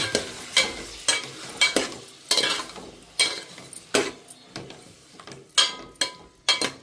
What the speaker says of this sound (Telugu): కొంచెం లైట్గా తిప్పుకుంటూ మనం దీన్ని వేయించేసుకుంటే